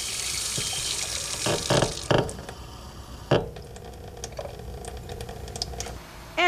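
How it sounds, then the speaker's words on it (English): A faucet runs a thin trickle of water into a sink, with splashy bursts and small clicking drips that come and go, close by and alone. "letting your faucets run, just a trickle of water can help keep your pipes warm from bursting"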